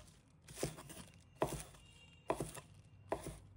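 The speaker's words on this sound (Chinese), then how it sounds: "把它切成小段" A kitchen knife chopping fresh scallions into short pieces on a cutting board, four crisp separate strokes spaced about a second apart, close and clear with no talk.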